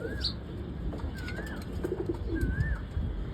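A dove calls on a house rooftop, three short tonal calls spaced about a second apart over a steady outdoor background murmur.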